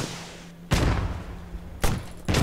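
Gunfire in the video game Post Scriptum: three loud, sharp broadband shots, the first two about a second apart and the third shortly after, over a steady low background hum.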